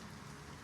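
Light drizzling rain falls outside an open door and window in Fort Lauderdale, a soft, even hiss of fine drops that is faint and steady through the whole moment, with no voices.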